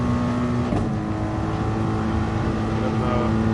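A race car engine in Gran Turismo Sport on the Autodrome circuit, droning steadily and building gently under acceleration, with a voice talking over the constant engine note.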